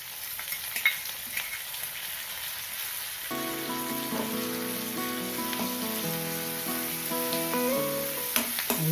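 Onions, garlic and chopped tomato sauté in a pan for a village-style vanjiram fish curry, a steady close sizzle with light stirring, joined by background music about a third of the way in.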